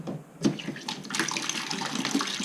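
Hot water runs from a bathroom tap in a sink during a tear-out, splashing and gurgling steadily at close range for a couple of seconds after a brief knock as it starts.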